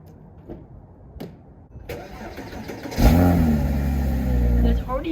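A Porsche 718 Boxster S engine turning over and catching, a loud burst that settles into a deep, steady idle with a brief rev at the end, after some quiet clicks and handling noises.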